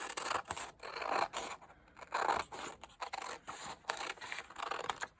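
Scissors cutting a sheet of paper in half, a series of close, crisp snips and rustling paper slides coming in quick uneven bursts, with no voice.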